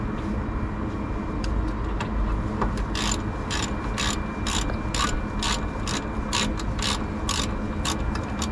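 A hand ratchet snugs small bolts on a Mk6 Ford Fiesta, making a close run of rapid, regular clicking strokes over a steady mechanical background hum.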